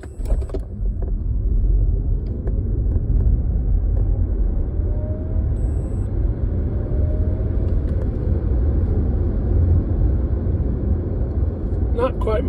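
A VW ID.4 electric car accelerating along a flat road, heard from inside as a steady low road and tyre rumble with a faint rising whine, and a few clicks at the start and end.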